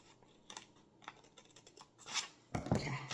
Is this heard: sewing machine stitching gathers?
no